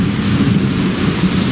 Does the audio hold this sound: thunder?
yes